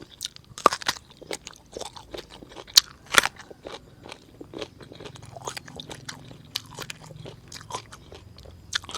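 Close, crunchy chewing of a spicy, bitter eucalyptus-mushroom salad in Isan koi style, with steady repeated bites and crisp crackles and no talking.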